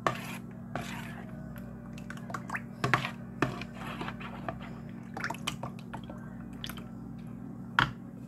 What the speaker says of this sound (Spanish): Y aquí le voy a estar agregando la crema